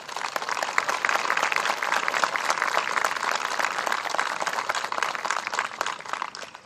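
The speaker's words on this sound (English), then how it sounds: "So, huge round of applause," A large audience at a university commencement ceremony applauds steadily, with dense, even clapping that holds at a moderate level throughout and no talking.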